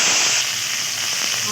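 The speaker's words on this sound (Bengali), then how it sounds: "তারপর ওই তেলের মধ্যে আমি দিয়ে দেবো জিরে, টমেটো" Cumin and tomato hitting hot oil set off a loud, dense crackling sizzle, brief and close.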